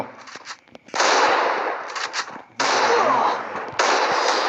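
Gunfire in the mobile shooter Free Fire during a one-on-one match, loud dense bursts of rapid shots in three long volleys with brief gaps between, close and alone without talk.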